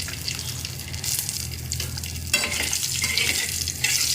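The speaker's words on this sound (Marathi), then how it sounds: "आता याच तेलामध्ये आपल्याला तेजपत्ते ॲड करायचे आहे आणि हिरवी मिरची" Bay leaves and green chilies frying in hot oil left over from frying potatoes, a steady close sizzle with stirring scrapes and a brighter burst of crackle midway, no talking.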